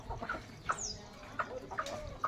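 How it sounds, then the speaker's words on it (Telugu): Backyard country chickens, a large rooster with hens, cluck softly in scattered short calls at moderate distance, with a higher squawk among them over quiet farmyard background. "ఈ కోడిపుంజు ఉంది కదా పెద్దది"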